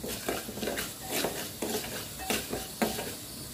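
Chopped vegetables stirred and sautéed with a little turmeric in a pan for a masala idli tadka, with a soft steady sizzle broken by repeated scraping strokes of a spoon, close up and without talk.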